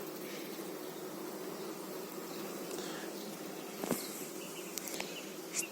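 A steady, dense hum of many honeybees buzzing close by on hive frames in an apiary, with a few faint knocks and clicks near the end.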